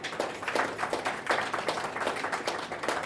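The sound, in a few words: audience clapping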